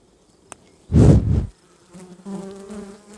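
Honey bees buzz at an open beehive in mid-May, a loud close half-second burst after a small click, followed by a quieter wavering drone.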